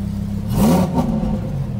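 A Lamborghini engine revs as the driver presses the gas, one rising surge of close, loud engine roar that settles back into a steady, throaty idle hum.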